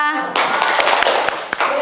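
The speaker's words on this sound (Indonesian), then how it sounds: "Berikan tepuk wow untuk kelompok 2." A classroom of students bursts into quick, loud clapping for a student group after an opening voice, the sharp claps scattered and close with children's voices mixed in.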